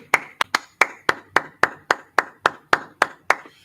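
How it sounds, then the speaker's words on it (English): A group at an ISUPK Houston Tuesday Brotherhood class claps in unison, about a dozen sharp, evenly spaced claps keeping a steady beat, close and distinct with quiet gaps between. "Hey, clap it up, y'all. Clap it up."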